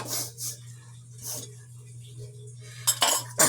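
Plates and cutlery clink and scrape while dishes are washed by hand, with scattered metallic chinks and taps over a steady low hum and soft voices.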